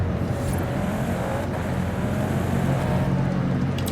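Turbocharged Audi inline-five engine in Forza Horizon 5 gives a steady, loud, continuous drone that holds an even level throughout, with no talk over it.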